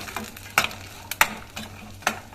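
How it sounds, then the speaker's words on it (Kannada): Metal spoon scraping and stirring turmeric into tempering for puliyogare in a pan, several distinct scrapes at an uneven rhythm over a faint sizzle, close by with no talking. "ಎಲ್ಲ ಮಿಕ್ಸ್ ಮಾಡುವ"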